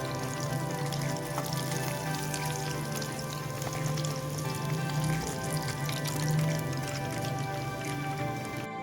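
Besan-coated fish pieces fry in hot oil, giving a continuous crackling, spitting sizzle with fine scattered pops. The sound holds at an even, moderate level throughout, with no talk over it.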